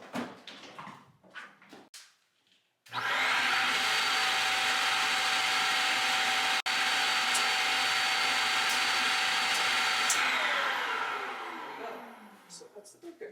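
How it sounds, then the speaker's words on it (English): Brief talk, then a vacuum cleaner whirs on with a loud steady roar for several seconds before spinning down as voices return. "Plug a vacuum into the plug."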